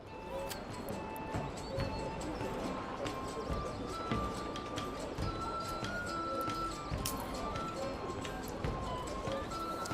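Horse hooves clip-clop in the medieval city-building game Manor Lords, a steady scatter of light taps over busy ambient game noise, with someone talking over the top.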